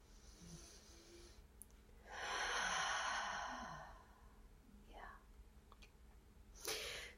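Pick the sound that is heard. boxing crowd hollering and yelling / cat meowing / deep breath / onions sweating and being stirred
deep breath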